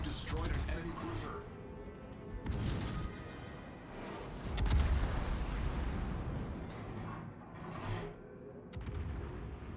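A Cleveland Tier 8 American light cruiser in World of Warships fires repeated booming gun salvos over the Faroe Islands map, with heavy thuds and rumbling tails. Someone talks over the gunfire.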